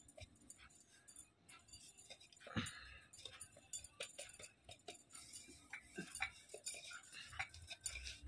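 Cabbage paratha dough rolled out with a rolling pin, producing soft, irregular knocks, scrapes and light clatters against the board at close range, with no talking.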